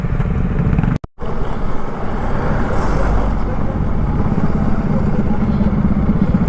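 Motorcycles ridden on a ghat road on the way to Varandha Ghat make a continuous loud rumble of engines and wind from the rider's own bike, with a brief dropout and others approaching from behind.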